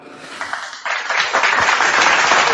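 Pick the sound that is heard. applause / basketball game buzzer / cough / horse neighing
applause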